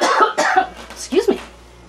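Several harsh coughs and throat clearing from a person cooking Cornish pasties in a home kitchen, close and loud, in quick bursts followed by a final rougher cough.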